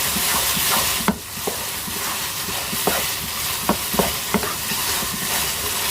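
Chicken keema fries and is stirred in a pan: a steady sizzle runs throughout, broken by sharp spatula scrapes and clicks at irregular intervals, close and moderately loud, with no talking.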